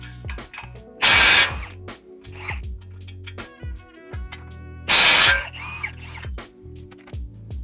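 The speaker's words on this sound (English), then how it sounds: "loosen the two lower ball joint bolts. And that is a 22 millimeter socket" A 22 mm socket on a power tool loosens the lower ball joint bolts on a Gen 4 Toyota Tacoma's front suspension. Two loud, close, buzzing bursts are separated by metallic clicks and clinks, with no talk.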